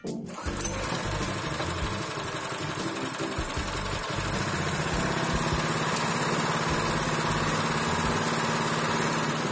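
A walk-behind tractor's small engine runs after its recoil starter was repaired, catching almost at once and then chugging steadily and loudly up close for the whole stretch.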